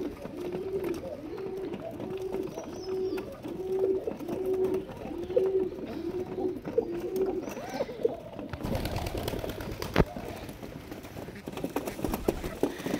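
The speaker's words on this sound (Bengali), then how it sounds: "এই যে কবুতরগুলা" Pigeons in a loft coo in a repeated rhythmic series up close, then give way to fluttering, shuffling and scattered knocks from the flock.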